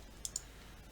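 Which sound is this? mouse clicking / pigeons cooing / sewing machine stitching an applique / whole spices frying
mouse clicking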